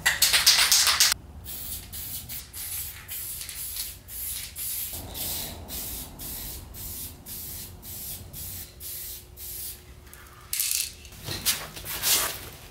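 Long, steady hiss of white spray paint from an aerosol can, running for several seconds, with short rattling bursts of the can being shaken before and after, while custom painting PC parts.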